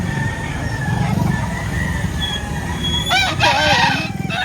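Chickens and roosters at a busy poultry market in Lipa, Batangas, with continuous clucking and a loud nearby rooster crow rising toward the end over a crowded background hum.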